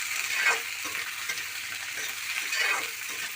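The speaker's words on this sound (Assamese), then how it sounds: "এইখিনি এতিয়া মই ধুনীয়াকৈ লৰাই দিম।" Vegetables, raw banana among them, fry in a pan with browned onion, chilli and garlic as a spoon stirs them: a continuous bright sizzle that swells with each stir, heard close with no voices.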